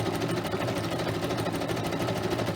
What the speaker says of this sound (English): does it glug up my sewing machine?